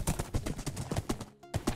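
A horse in Minecraft clip-clops in a quick, steady rhythm of close hoofbeats, with one brief gap before the stepping resumes.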